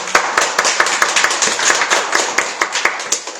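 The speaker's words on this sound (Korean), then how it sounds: "우리 40일 작정 기도 동안 우리와 함께하신 하나님께 감사의 박수 올려요" A church congregation claps in thanks during a Sunday worship service, a steady patter of sharp handclaps close by, with a few louder individual claps standing out.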